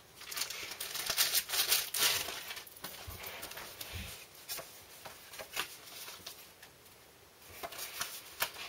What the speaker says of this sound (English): I will have a look at my other journaling cards to see if there's anything that I can use in here.